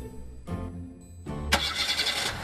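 A car engine cranks in two short tries and then catches, settling into a close, steady running rumble.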